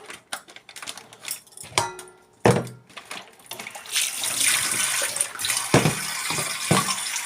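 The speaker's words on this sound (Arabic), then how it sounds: "اغسل بقى الحله السلسين دي وهتشوفوها اهي." A stainless steel pot is washed under a running tap, with splashing water, hollow knocks and scrapes of metal against the sink, growing into a steady gush of flowing water.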